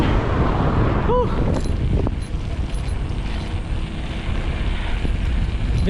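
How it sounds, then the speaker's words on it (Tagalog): Strong headwind buffeting the microphone while cycling on an open road, a loud continuous low roaring rush with no letup and a faint tonal whine near the start. "Grabe yung salubong sa atin ng hangin"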